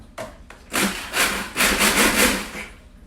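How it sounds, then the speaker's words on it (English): Food processor blades grinding white bread into breadcrumbs, a few short rough whirring bursts that stop and start, close and moderately loud, with no voices. "you're not going to be able to hear me over a food processor"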